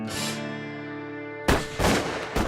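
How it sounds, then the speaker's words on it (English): Gunfire in a horror film, a few sharp loud bursts at close range cutting in after a steady sustained tone, with no talking. "That sounds like gunshots."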